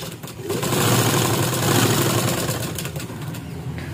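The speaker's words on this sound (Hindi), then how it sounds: "एक सिलाई लगाते हुए मैं इसकी स्टिचिंग ले रही हूं। तो आप देख सकते हो जो पट्टी हमने ऊपर से निकाली थी उसी को मैं यहां पे स्टिच कर रही हूं।" A sewing machine stitches a doubled fabric strip for a belt saree, a close, continuous buzzing run at steady speed that tapers slightly near the end, with no talk.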